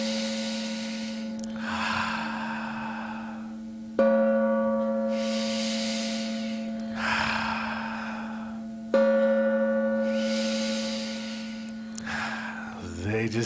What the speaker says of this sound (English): They just don't know what they have done giving me this gong. We might be gonging all service long.